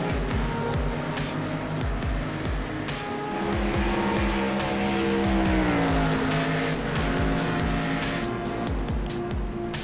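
BMW race cars in the Global Challenge lap Oulton Park, engines roaring loudly and continuously, pitch rising and falling through gear changes, with tires squealing as cars slide through the corners.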